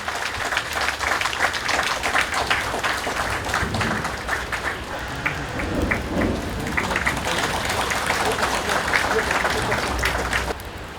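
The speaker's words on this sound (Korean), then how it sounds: "힘찬 박수 보내주시기 바랍니다" An audience at an outdoor memorial ceremony for Korean War civilian victims in Changwon claps steadily and densely, a rain-like patter of many hands sustained throughout and fading slightly at the end, with faint voices mixed in.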